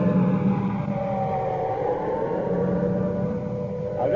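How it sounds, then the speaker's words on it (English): London traffic at night. A siren wails in long, steady tones, layered over a continuous rumble of passing vehicles, and no voices break in. "I'll just let you listen to the traffic and the sound of the siren for a moment."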